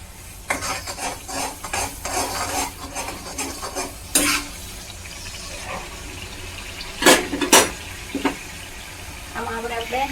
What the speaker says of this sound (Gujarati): હવે આપણે બધું છે સરસ મજાનું મિક્સ કરી લઈશું